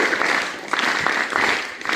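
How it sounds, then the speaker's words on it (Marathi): An audience at a commemorative school or community event claps together, dense rapid hand claps forming a loud continuous patter that dips and swells. "टाळ्या जोरात वाजवायच्या"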